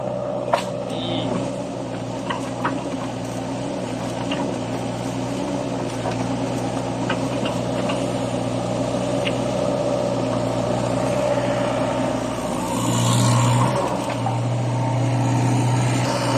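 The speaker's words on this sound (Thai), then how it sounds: "ฟังเสียงเครื่องยนต์ ดังนิ่มครับพี่น้อง" A heavy diesel engine of a new Zoomlion ZE75E-10 excavator with a Yanmar engine idles steadily and close by, a continuous low rumble with faint clanks and no voices.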